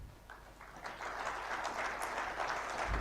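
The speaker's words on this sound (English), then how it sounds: "let's give a big round of applause" Applause from a summit audience at the India Advantage Summit after a presentation ends, a moderate wash of clapping that builds and stays even for a few seconds.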